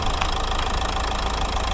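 A 2011 Nissan Qashqai+2 engine idles close by, a steady mechanical hum with an even, rapid pulsing beat and a faint ticking texture, running on its own without any talk.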